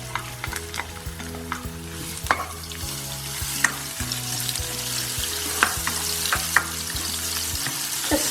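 Chili and garlic stir-fry in hot oil for a ground beef dish. A continuous close sizzle runs under frequent scraping and clinking strokes as the pan is stirred, with no talking.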